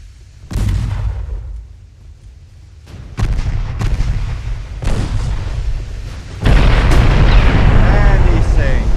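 Warship guns fire in the naval battle game Ultimate Admiral: Dreadnoughts, with loud booming salvos at intervals that give way to a heavy, sustained rumble of gunfire and explosions.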